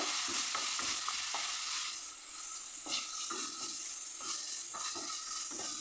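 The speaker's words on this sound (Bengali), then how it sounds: "কাজু কিশমিশ কাঠবাদাম কেটে রেখেছিলাম সেগুলো আমি খুব ভালোভাবে নেড়ে চেড়ে নেব" Chopped cashews, raisins and almonds frying in a pan for shahi pulao while being stirred, with a crackling sizzle and repeated scraping strokes of the spoon, close and alone.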